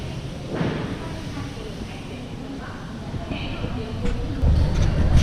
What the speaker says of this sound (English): This is the station at Hue, and I'm in the waiting room.